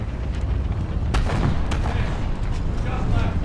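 A tank cannon in War Thunder Mobile fires armor-piercing shells, heavy booming shots that stand out over steady engine rumble and battle noise, with a voice talking underneath.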